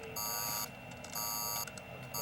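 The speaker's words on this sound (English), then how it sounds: "We're showing an alarm in Sector 3." An alarm buzzes in a sci-fi control room, sounding in repeated electronic pulses of harsh, even tone, three bursts separated by short gaps, steady and unaccompanied by voices.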